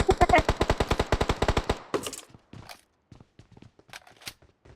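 Automatic gunfire in a video game rattles off in a fast, loud, evenly spaced burst, then gives way to scattered quieter shots and soft footstep-like taps.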